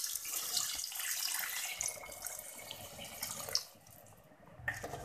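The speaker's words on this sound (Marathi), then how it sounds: "गरम केलेलं पाणी टाकून घेऊयात" Hot water is poured into a pressure cooker of rice for vegetable biryani, a steady splashing, gurgling stream lasting several seconds before tapering off, close and quiet with no talk.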